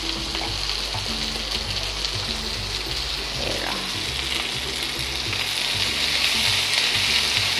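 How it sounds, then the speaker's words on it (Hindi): Mushrooms frying in a pan for sticky noodles make a constant, close sizzle with light crackle, continuous and alone with no talking. "अच्छे से फ्राई करूँगी।"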